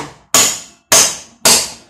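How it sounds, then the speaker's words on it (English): Three loud hammer blows on a steel panel of a no-weld rocket stove, each a sharp metallic clang that rings and fades over about half a second, spaced evenly with no talk. "Don't be afraid to break out the old hammer"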